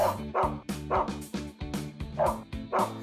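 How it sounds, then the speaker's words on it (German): A dog in an animated video barks in a quick rhythmic series of about seven loud, close yips, with no talk over them. "Ah, woher kommt dieser Hund?"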